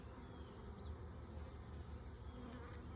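A swarm of honeybees buzzing steadily, a dense, continuous hum that stays even and fairly faint throughout, with no voices.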